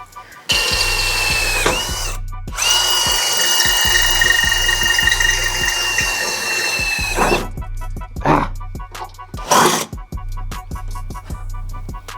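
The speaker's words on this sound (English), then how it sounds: "I gotta find my drill actually." A power drill bores a hole into a car's frame support during a transmission cooler install on a Monte Carlo. It whines loud and close in two long bursts, then in shorter stops and starts.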